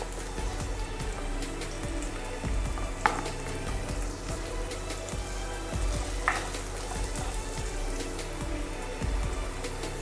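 Capsicum shallow-frying in a pan with the vegetables for Indo-Chinese chicken fried rice, giving a continuous close sizzle with a few sharper crackles and stirring knocks, no talking.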